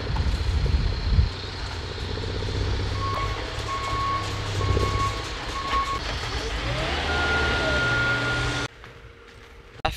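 A JCB machine working on a farm while moving hay racks over a fence gives a loud, steady diesel engine drone with repeated reversing beeps, then the engine drops away abruptly near the end.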